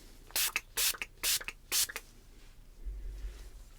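Close by the ear, a spray bottle puffs four quick hissing bursts in a steady rhythm, then quiet handling follows, during a gentle ASMR ear-cleaning session.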